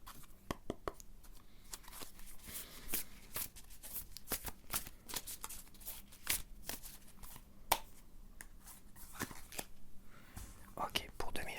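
Cards for a cartomancy reading are shuffled closely and softly in a quiet room, with repeated crisp riffles and taps over a faint hush and whispery voice.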